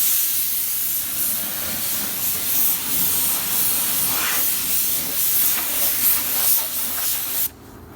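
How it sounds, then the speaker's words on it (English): Continuous hiss of a spray gun applying paint to a car engine bay, steady and close for several seconds before cutting off abruptly near the end. "if you spray it right, it'll pretty much look like if it was fully disassembled"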